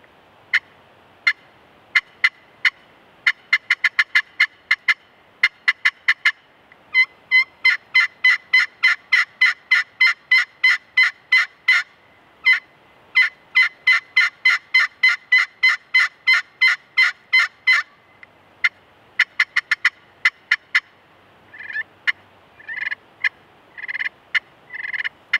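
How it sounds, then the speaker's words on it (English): Roadblock aluminum turkey call by Dead End Game Calls sounding crisp, loud, close yelps and clucks in quick rhythmic runs, with bursts and pauses and a few longer notes near the end, and no talk. "Check out the sound that we're now getting from our roadblock aluminum."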